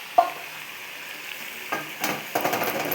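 A pot of vegetable curry with green chillies simmers and bubbles with a steady soft sizzle, broken by a few short stirring scrapes near the end.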